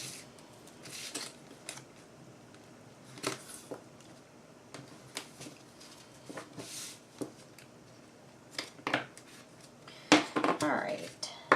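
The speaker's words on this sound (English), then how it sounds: "if you're doing it by hand, you just cut it out by hand" Scissors snipping paper by hand for a school-themed mini album page, a scattering of quiet, brief cuts and paper rustles close by, with a louder burst of cutting near the end.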